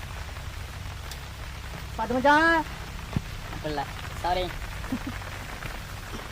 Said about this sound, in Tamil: நம்ம சமைக்கிற அன்னைக்கு தான் மழை வரணுமா